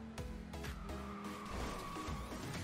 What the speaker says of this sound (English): and a perfect drift